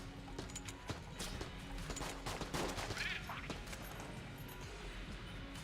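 Rapid turret gunfire in the Enter the Gungeon video game, dense repeated shots and impacts crackling over game music for several seconds.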